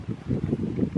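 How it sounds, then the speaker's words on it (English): Wind gusting outdoors near a woodland edge with olive trees, a steady low rumbling buffet that swells and eases in uneven pulses, close and moderately loud with no other sounds. "Oh, it's a little bit windy"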